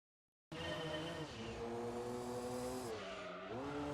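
A touring car 155 in the Gran Turismo 2 video game roars at high revs, its engine pitch sweeping up and down through gear changes with tire squeal, loud and steady throughout without speech.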